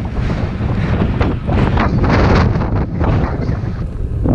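Strong gusty wind buffets the microphone on a bike ride in rural Lincolnshire, a loud, unbroken roar that swells and eases without pause.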